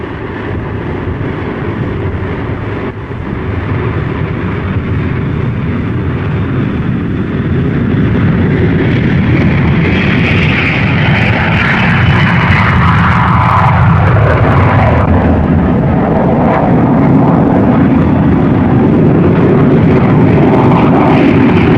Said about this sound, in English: Red section, clear takeoff.